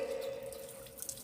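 Tap water runs steadily into a sink while someone performs ablution (wudu) to prepare for prayer, a continuous close splashing stream with faint drips near the end and no talking.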